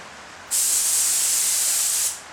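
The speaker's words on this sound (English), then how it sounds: "You just watch me spray that without a mask or anything." A spray gun laying paint onto Ford ZF Fairlane car parts during restoration: one steady, loud hiss of about one and a half seconds, starting abruptly and tapering off at the end.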